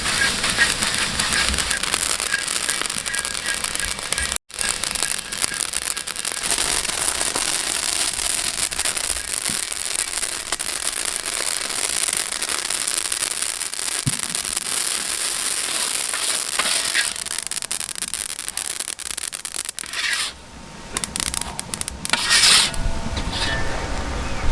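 Sesame seeds roast in a pan for sesame candy, giving a dense, steady crackle and sizzle of popping seeds that runs close and loud throughout with only a couple of brief dips, and no talking.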